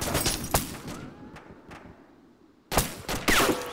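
Grenade explosions in the combat game Arma 2 come as several loud, broadband bursts with rumbling tails, a quieter gap, then heavier blasts near the end that sound close by.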